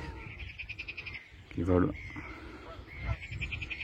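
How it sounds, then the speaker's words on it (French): Frogs croak in a rhythmic pulsing chorus at a park lake, moderately near and rising in two bursts beneath a person talking. "On entend même les grenouilles."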